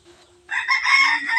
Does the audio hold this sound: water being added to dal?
no